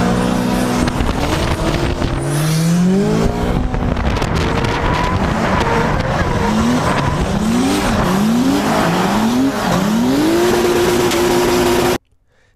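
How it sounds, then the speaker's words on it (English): Drift car in a tandem drift, engine revving hard with repeated rising and falling pitch sweeps as the e-brake is pulled and the throttle reapplied, tires squealing under constant loud wind buffeting, close and continuous until an abrupt cut. "I made a couple e-brakes, and then I got back on the gas, and then I e-braked kind of back and forth trying to modulate my speed next to the other driver"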